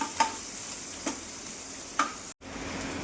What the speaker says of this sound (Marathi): हे टाकलेली मिरची परतून घ्यायचं छानपैकी. वा, मस्त तापलेला आहे तवा.